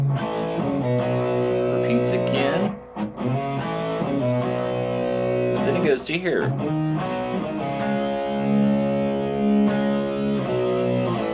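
Distorted electric guitar plays the riff of a song, chugging power chords with a brief pause, while someone talks over part of it.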